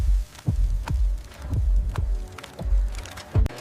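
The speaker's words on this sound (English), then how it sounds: "The roar of the grinder is the heartbeat of the factory." A peanut grinder mill in a processing factory gives off a heavy low throb, with deep pulses repeating at a steady rhythm about twice a second under a constant mechanical hum. No one talks.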